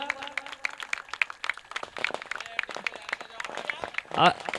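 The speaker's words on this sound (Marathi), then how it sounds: "जोरदार टाळ्या वाजवा." A crowd at a cricket tournament prize distribution claps in scattered, uneven bursts while voices talk over the applause, with a louder shout near the end.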